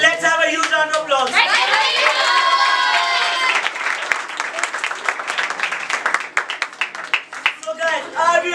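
An audience at a felicitation celebration bursts into a loud, sustained round of clapping and cheering that thins into scattered claps, with voices talking over it.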